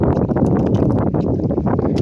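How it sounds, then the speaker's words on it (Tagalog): Wind blows steadily over the open sea around a small fishing boat with nets out, a loud, continuous rushing roar with gusty buffeting against the microphone. "Nag-iba na yung ihip ng hangin. Medyo lumakas-lakas na."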